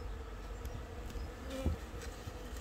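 Honeybees hum around an open hive outdoors, a close, continuous swarm buzz with no talking.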